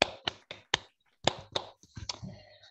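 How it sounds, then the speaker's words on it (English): A single person claps hands a handful of times at the close of an online physics seminar: sharp, close, irregular claps with a short pause midway, then a looser run of softer taps, no talking. "Let's see if I clap."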